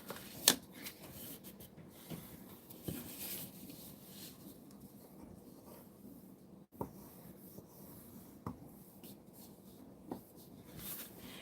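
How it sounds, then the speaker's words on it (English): A cardstock card base is folded and burnished by hand, making soft rubbing and papery scraping strokes with a few sharper taps and creases, close and quiet, with no talking. "so I'm going to fold and burnish this card base"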